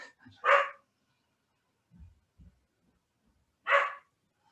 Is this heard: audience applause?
no